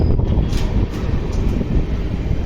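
A local EMU train rumbles past nearby as a Jan Shatabdi Express departs Bangalore, a steady low roar with rushing wind noise, close and continuous.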